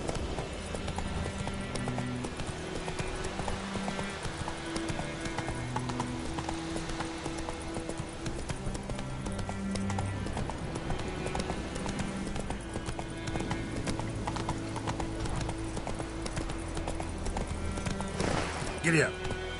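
Horse hooves galloping in The Witcher 3, a steady clip-clop rhythm running throughout under game music and ambience, with a voice urging the horse on.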